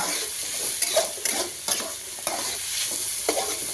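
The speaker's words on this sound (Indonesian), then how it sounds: "kita tumis dulu, karena kandungan airnya nanti sudah hilang, baru dicampur mie" Vegetables sauté in a hot wok before being mixed with noodles, a constant sizzle broken by several scraping strokes of a spatula against the pan.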